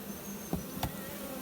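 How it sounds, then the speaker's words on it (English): Honeybees from a swarm gather at the entrance of a swarm trap box, one starting to fan, making a steady close buzzing hum with two brief sharp taps. "here's the one bee starting to fan"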